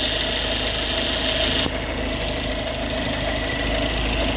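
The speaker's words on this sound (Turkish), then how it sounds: "Motorun ısınmış hali." Warmed-up car engine idling, heard close with a steady, even drone and faint knocking texture throughout, with a brief shift partway through.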